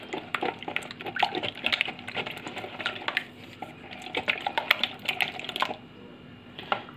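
Three eggs beaten by hand in a bowl for a crispy cauliflower batter, a quick irregular clicking and tapping that runs on steadily and close by, with no talk over it.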